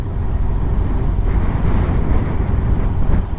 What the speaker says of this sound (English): And as you can see, it's windy.